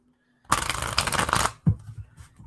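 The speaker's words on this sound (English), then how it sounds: "As I'm shuffling." A deck of cards shuffled close up, a dense papery riffle lasting about a second, then a brief tap and softer shuffling sounds, with no talk over it.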